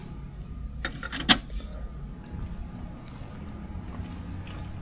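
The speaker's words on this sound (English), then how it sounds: "Let me go ahead and grab the keys" A quick jangle of car keys for a 1968 Buick Electra 225, one sharp metallic jingle near the start, then a quiet, steady background with soft handling noises.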